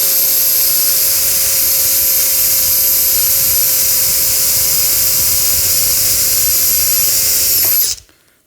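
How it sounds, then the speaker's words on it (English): Power drill boring a rivet hole in a launcher front assembly, a loud steady high whine held for about eight seconds before cutting off abruptly. "So I'm going to go ahead and drill that hole."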